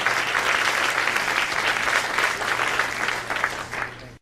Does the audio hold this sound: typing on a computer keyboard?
no